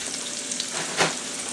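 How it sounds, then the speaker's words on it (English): Broccoli dropped into a pot of boiling water gives a short hissing splash about a second in, set over a steady low bubbling hiss. "And I'm going to put some broccoli in here."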